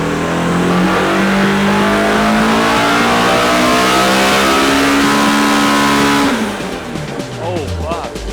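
A Honda K20 engine revs hard on a dyno, a loud sustained climbing wail to 8,500 RPM that holds for about six seconds, then drops off into lower, uneven burbling as the throttle closes.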